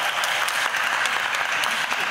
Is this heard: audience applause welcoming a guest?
yes